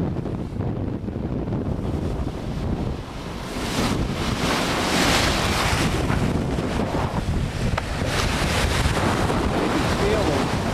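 Big ocean waves rolling in and breaking near a boat at sea, a steady loud surf roar mixed with heavy wind buffeting the microphone, swelling louder partway through and staying strong to the end.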